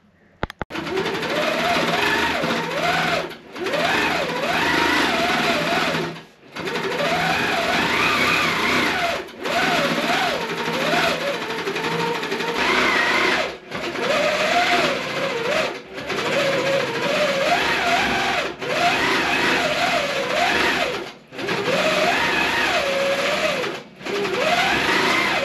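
A sewing machine stitches a meandering clover-style quilting pattern across a puzzle quilt, running in steady loud bursts of several seconds each, separated by brief pauses, with no talking over it.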